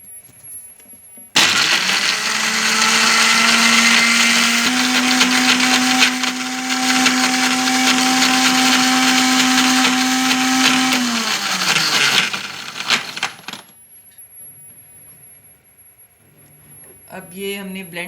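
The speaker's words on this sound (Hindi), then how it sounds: "इसे हम ब्लेंड करेंगे।" An electric blender whirs through about a dozen or more fresh mint leaves for a mint margarita drink. The loud, steady motor whine climbs in pitch partway through, runs for about ten seconds, then winds down and stops, leaving quiet.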